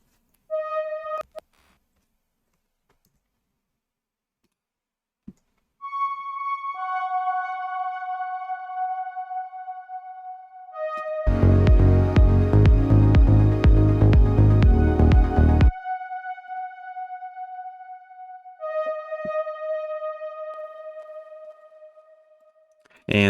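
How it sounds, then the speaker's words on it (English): A synthesizer lead wobble from an electronic dance track plays in sustained melodic tones, joined midway by a dense, loud burst of layered sound before thinning back to the lead alone. "the next thing we have in our group is our lead wobble, which plays throughout the whole track"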